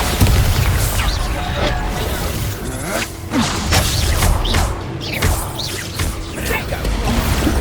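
Booming magical blasts of the Bombarda explosion spell in Hogwarts Legacy combat, loud repeated crashes and whooshes in dense succession, with a voice speaking over the battle noise.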